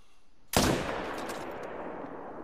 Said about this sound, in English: That shot missed